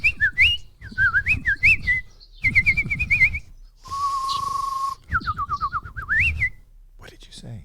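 A man whistles an imitation of bird song in short warbling phrases broken by breaths, then holds one long steady whistle before more fluttering trills, close and loud.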